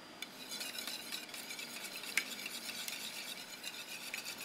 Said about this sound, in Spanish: vamos a batir muy bien a que se mezclen los 3 ingredientes